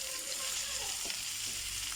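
Braise for white samp frying in a pot, a steady bright hiss of sizzling oil with a few soft stirring scrapes, close and continuous.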